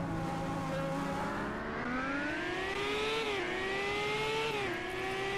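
An IndyCar race car engine in a racing video game at Circuit of the Americas whines steadily, rising through the gears in a smooth climbing drone with brief pitch dips at each shift, loud and continuous.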